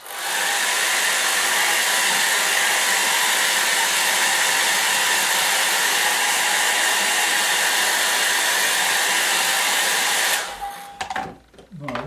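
A hair dryer blows steadily at close range to dry a wet pet dog, a loud continuous whirr that cuts off abruptly near the end, followed by brief handling noise.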